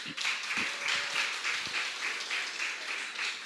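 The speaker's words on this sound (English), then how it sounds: "give these young people a round of applause" A live audience applauds young people on a morning show, a steady, even patter of many hands with a few close, distinct claps near the start.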